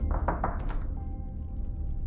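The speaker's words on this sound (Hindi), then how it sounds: "तभी बोर्डरूम के भारी ओकवुड दरवाजे पर दस्तक हुई।" A few quick, solid knocks land on a heavy oak boardroom door, followed by a lingering low room tone.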